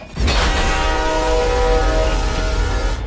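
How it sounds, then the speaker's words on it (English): A loud, shrill train horn in the video game Need for Speed The Run blasts with a sudden onset and holds steady for several seconds over a deep rumble. "all of a sudden the camera zooms in and you hear this shrill train horn"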